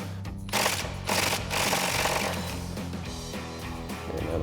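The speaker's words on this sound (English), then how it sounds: "We're going to loosen up our banjo bolt for our stock one with our 10mm socket on our impact." An impact wrench with a 10mm socket loosens a brake caliper banjo bolt on a 2005-2014 Mustang GT, a loud sustained mechanical hammering rattle that runs steadily through the whole stretch, with brief pulses near the start.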